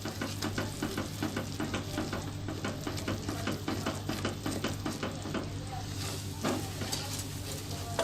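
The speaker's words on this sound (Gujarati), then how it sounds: "બરાબર હલાવી લેશું।" A hot butterscotch mixture of butter and roasted almonds is stirred steadily in a pan, giving a continuous sizzle with repeated scraping and clattering strokes up close and no voices.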